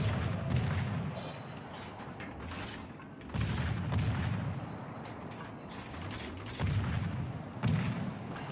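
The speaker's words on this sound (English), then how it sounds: "here comes some shots on the Fubuki again" Naval gunfire from ships in World of Warships, with heavy booming salvos and rumbling blasts recurring every few seconds over a constant mechanical game background.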